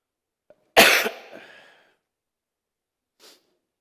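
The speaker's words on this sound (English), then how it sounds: "I'm sorry about my cough." A single sharp cough from a speaker at a conference talk in Bangalore, close and loud with a short rough tail, followed a few seconds later by a faint brief throat sound in otherwise quiet surroundings.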